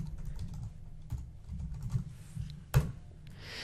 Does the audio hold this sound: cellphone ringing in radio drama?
no